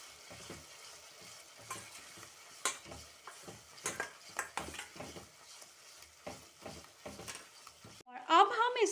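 A yogurt mixture with Kashmiri red chili powder sizzles in hot oil for achari aloo while a spoon scrapes and stirs the pan in uneven strokes, and a voice comes in near the end.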